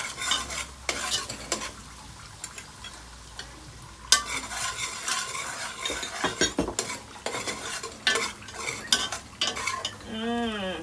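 Curry powder and seasoning frying in a pan for Trinidad-style banana fig talkari, crackling sizzle with repeated scraping and stirring of a utensil against the pan, ending in a short metallic ring.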